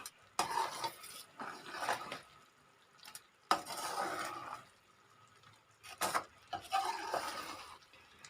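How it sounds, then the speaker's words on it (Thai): Sugar and salt syrup simmers in a pot, with intermittent stirring scrapes and utensil clinks against the pan in quiet bursts, separated by short pauses. "จะเคี่ยวน้ำตาลให้เขาเหนียวนิดนึงนะคะ"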